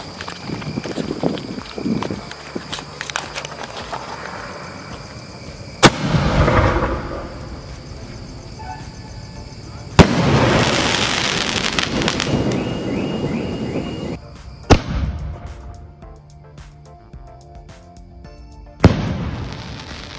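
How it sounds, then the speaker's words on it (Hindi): Large Cornation Jinsha sky shot fireworks set off for Diwali, several sharp launch cracks followed by broad rushing bursts and crackle, loud and outdoors, repeating every few seconds. "सो स्काई शॉट तो काफ़ी बढ़िया"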